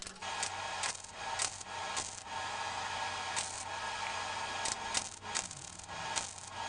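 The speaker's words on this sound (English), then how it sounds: "I did want to show you this new belt sander I got, which is great for smoothing out welds" Belt sander smoothing welded patch panels on a car's upper cowl sheet metal, a steady abrasive rasping hiss with repeated stroking surges, close and continuous throughout.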